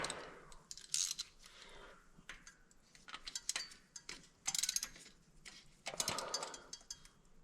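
Spark plug turned by hand into the number 7 hole of a 71 Corvette engine, heard as faint, close ticking and scraping clicks in irregular short bursts.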